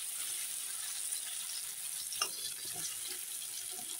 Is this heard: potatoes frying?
yes